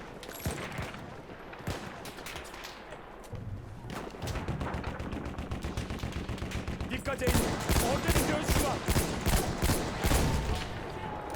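Battlefield 1 gameplay with a Selbstlader M1916 semi-automatic rifle brings sparse shots that build into rapid, evenly spaced cracks and fast bursts of gunfire, close and loud against a busy battlefield din.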